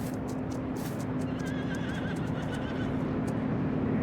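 A horse whinnies in Farming Simulator 22, a clear wavering neigh over steady background game noise and light hoof sounds.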